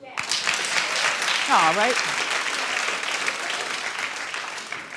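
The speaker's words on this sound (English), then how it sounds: "Clap if you would." Studio audience applause at a daytime talk show, dense and loud clapping that starts abruptly and carries on steadily, with a voice briefly heard over it early on.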